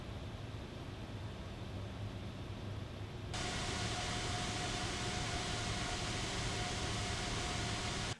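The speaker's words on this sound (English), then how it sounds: "I had to run a Delta fan at 5000 RPM to cancel out the noise" A Delta 92mm fan spinning at 5000 RPM gives a loud, steady broadband whoosh that jumps abruptly to a harsher, fuller roar partway through, with a faint whine riding on top.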